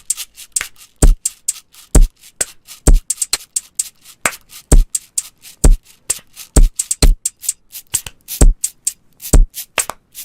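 Punchy clap samples play back in FL Studio, sharp dry hits repeating in a loose rhythmic pattern with silence between them, loud and close with no voice.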